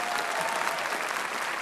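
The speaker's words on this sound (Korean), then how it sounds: "큰 박수 주세요" An audience bursts into strong, steady applause at a Korean stage performance, a dense wash of clapping from a crowd that fills the room evenly throughout.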